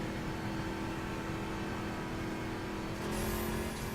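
Engine of a 2013 Ford Shelby GT500 driving in the racing game The Crew, a steady loud drone that swells slightly near the end, with no talking.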